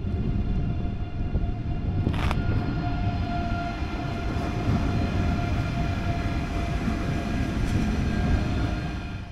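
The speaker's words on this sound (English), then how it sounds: "Here comes our almost high-speed regional train, inbound from München Hauptbahnhof" A German regional express train, almost high-speed and inbound from München Hauptbahnhof, rolls into a station with a steady rumble and faint whining tones. A brief sharp clank sounds early on, and the noise stays fairly even and moderately distant.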